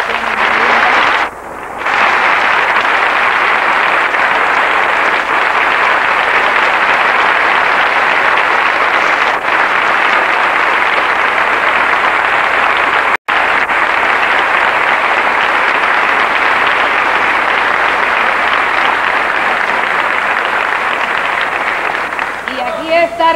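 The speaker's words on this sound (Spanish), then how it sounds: "Yo quiero dar un aplauso muy efusivo" An audience at a gala celebrating an artist's 50th anniversary applauds at length, a broad sustained wash of clapping from a large hall that stays steady throughout, with a brief dip near the start.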